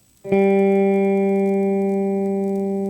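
A single plucked open G (third) guitar string rings out after a moment of quiet, sustaining evenly and slowly fading with a clean, steady tone.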